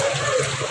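Floodwater sloshing inside a flooded house, a short dense wash of splashing and moving water heard up close.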